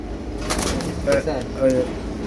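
A pair of pigeons at a pigeon farm gives soft, short coos, a few brief calls standing out near the end over a steady background murmur, with people talking nearby.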